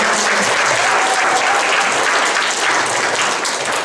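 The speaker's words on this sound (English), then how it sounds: "Please give her a round of applause." Sustained audience applause at a school vocabulary bee ceremony, honoring the poet laureate of Pleasanton; dense, steady clapping from many hands fills the whole stretch at a loud, even level.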